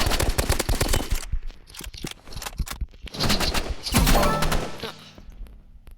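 Shotgun fire in a multiplayer shooter game, heard as a burst of rapid, sharp shots up front, then a few more scattered blasts with thuds and scraping in between, with players' voices in the background.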